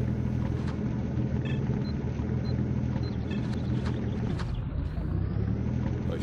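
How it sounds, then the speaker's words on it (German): A steady, loud engine rumble of a car driving in the video game Stalker Lost Alpha, continuous throughout with faint electronic tones briefly over it, no talking. "da ist ein fahrendes Auto"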